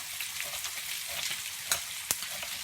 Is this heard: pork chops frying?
yes